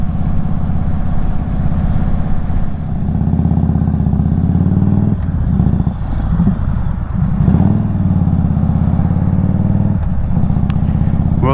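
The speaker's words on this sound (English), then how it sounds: "like it just sputtered out of gas" Indian Super Chief Limited motorcycle running nearly out of gas, its steady throbbing engine rumble loud and close, stumbling and sputtering in a few uneven dips before catching again.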